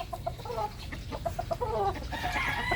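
Chickens cluck in a rapid, overlapping chorus from a flock of breeding pairs, with a rooster's crow rising near the end; the birds are close and fairly loud, with no talking.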